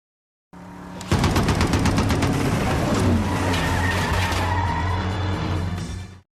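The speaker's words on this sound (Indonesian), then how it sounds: "Kemudian, Joe mulai menembaki mobil Jensen lagi." Gunfire rakes a car during a prison race scene in the 2008 film Death Race: loud rapid bursts of automatic fire over a roaring engine and rumbling vehicle noise, continuous and close.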